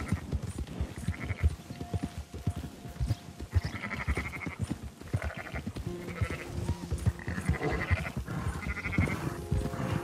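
A flock of sheep bleats repeatedly in Red Dead Redemption 2, with overlapping calls from several animals near and far over a busy background of hoof clatter and movement, and no talk.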